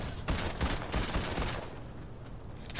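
Assault rifle fire in Fortnite: rapid, dense bursts of shots crackle over a busy game mix, fairly loud and continuous for a couple of seconds.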